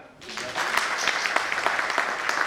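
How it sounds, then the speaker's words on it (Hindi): Seminar audience in a hotel training session breaks into loud applause, a sustained crackling patter of many hands starting abruptly and continuing steadily, with a voice faintly present. "जोरदार ताली"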